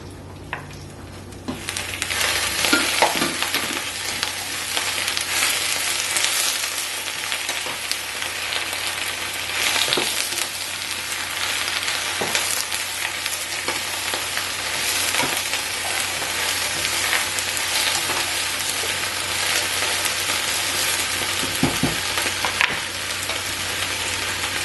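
Bok choy and shrimp frying in a covered pan, a continuous loud sizzle with crackling pops and occasional clinks, steady for the whole stretch with no talk.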